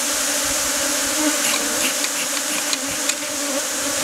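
A dense, continuous buzz of many honeybees at a hive, loud and close, with a few individual bees droning past near the microphone and no voices.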